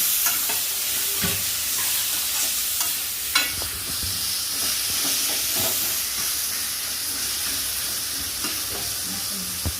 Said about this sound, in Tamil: தக்காளி போட்டு நல்லா வதங்கணும்.